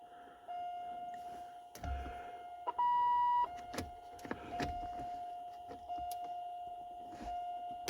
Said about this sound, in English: I admit the beeper gets a little annoying now.